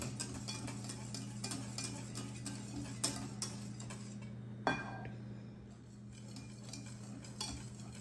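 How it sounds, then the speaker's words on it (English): A whisk beats a chocolate pudding mixture in a bowl for a trifle, a quiet, rapid, steady ticking rhythm of metal against the bowl with one brighter clink partway through and no voices. "And just continue to whisk it."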